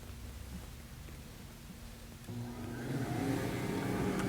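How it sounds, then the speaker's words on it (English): A Foredom dust collector runs with no hose attached, its steady motor whine and airflow rising to a louder, fuller roar partway through as the switch moves up, with no talking. "This is our dust collector all plugged in. I just haven't added the hose yet."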